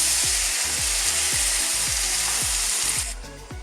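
Stock poured into a hot frying pan for stuffed bell pepper filling sizzles loudly and steadily, with a soft regular thump about every half second beneath it, before the hiss drops away near the end.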